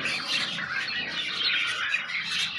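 A red-eye breeder pair of pet birds chirps busily up close, with quick overlapping tweets and short calls forming a continuous bright chatter.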